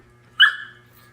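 A puppy gives a single short, high yelp that trails into a thin whimper, close and fairly loud over a quiet indoor hum.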